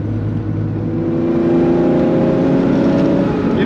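Engine of a 1974 Porsche 911 RSR IROC tribute held at about 3,000 rpm in third gear, a steady loud drone with layered harmonics that rises slightly in strength, heard from inside the car with no talking.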